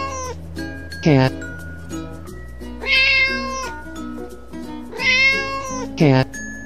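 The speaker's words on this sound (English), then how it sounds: "Cat." Several cat meows ring out clearly in a children's animal cartoon, three or four rising calls spaced a second or two apart over light plinking music.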